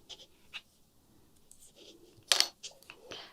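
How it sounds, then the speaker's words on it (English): Metal knitting needles scrape and tap on paper during cable knitting, giving a few sparse dry scratches and clicks, with one sharper louder scrape near the end. "Sorry about the needles on the paper, that's not a great sound."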